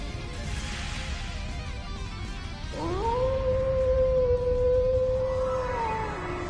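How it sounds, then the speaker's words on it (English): A wolf's howl from the video game Trails into Reverie: a single long, tonal cry that swoops up, holds steady for about three seconds, then slides down, heard over a constant low background rumble. "Did that howl cancel out the artifact's power?"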